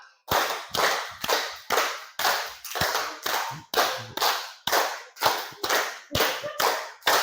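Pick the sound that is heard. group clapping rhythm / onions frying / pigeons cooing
group clapping rhythm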